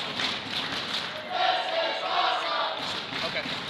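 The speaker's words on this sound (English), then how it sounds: "Fans showing their appreciation for this No Limits bout." A wrestling crowd at a No Limits bout cheers and roars steadily throughout. The noise is fairly distant and holds at an even level without clear peaks.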